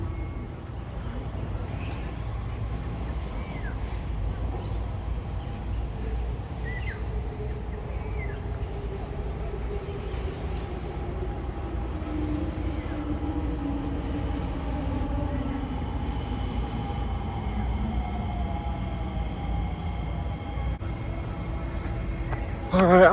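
A train rolls into a Singapore station with a steady low rumble and rising, gliding tonal whine of motors and wheels, continuous for over twenty seconds, with faint bird chirps in the background.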